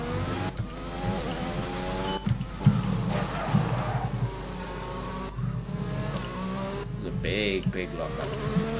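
An F1 2020 race car at the Hungaroring locks its wheels under braking, a tyre squeal cutting through the steady high engine whine. The car sits up close and loud, and a voice talks over it.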